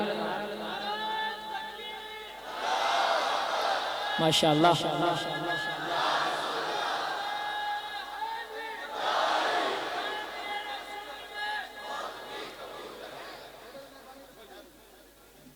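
A crowd at a religious speech gathering answers a slogan with two loud surges of massed chanting, separated by a sharp shout and followed by fading chatter.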